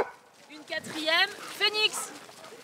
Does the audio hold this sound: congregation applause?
no